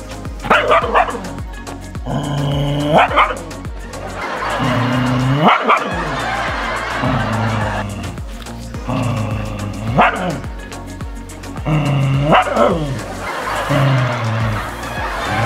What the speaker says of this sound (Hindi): मेरे सामने जस्ट सामने कोई दूसरा कुत्ता खड़ा है जिसको ये भौंक रहा है